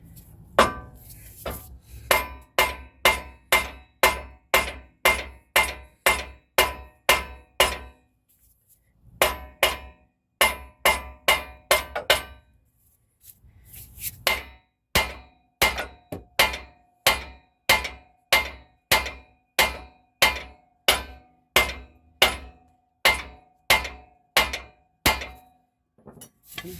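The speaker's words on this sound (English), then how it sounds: "What's good about these hammers is I could actually hit right here without like hitting the ball joint or slipping." A mini sledge hammer pounds on a ball joint of a 2000 Cadillac Escalade, ringing metal strikes in a steady rapid series, close and loud, pausing briefly twice before resuming.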